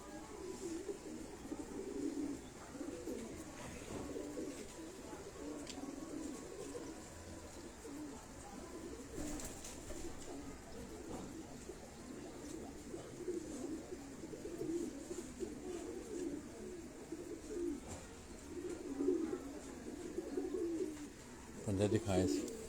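Soft, low pigeon coos repeat steadily against a quiet, slightly noisy background, with faint rustles and no clear talk.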